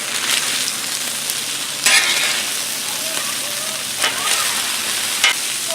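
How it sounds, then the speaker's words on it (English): Flour tortillas warm on a Blackstone griddle, giving a steady, close sizzle with crackling and a few louder scraping bursts of spatula contact throughout. "I'm going to warm up my flour tortillas"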